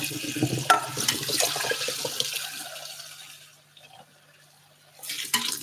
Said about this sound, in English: now I'm going to pour the noodles into the colander